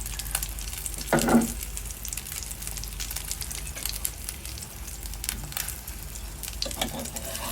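Egg paratha made from leftover roti fries in a pan, giving a steady close sizzle throughout with a brief louder crackle early on.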